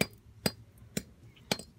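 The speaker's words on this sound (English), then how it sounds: "Let me just finish up the smashing." A hammer striking a chunk of obsidian, three sharp glassy cracks spaced about half a second apart, close and distinct against a quiet background with no talk.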